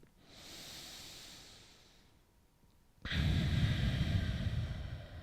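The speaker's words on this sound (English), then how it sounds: "the other part is that slow, controlled breathing to help with better sleep" Slow, controlled breathing during a bedtime yoga stretch: one long soft exhale, a pause, then a louder, fuller breath close to the mic.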